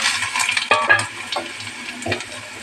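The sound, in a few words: pointed gourd frying in oil with five-spice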